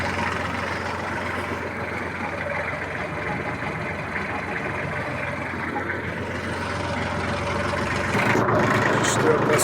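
A Kubota GL-35 Japanese mini tractor engine runs in third gear, a steady mid-pitched mechanical drone that grows slightly louder toward the end.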